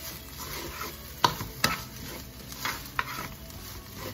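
Shrimp fried rice is stirred in a pan, giving a soft ongoing sizzle broken by a few sharp utensil scrapes and clinks against the pan, up close with no voices.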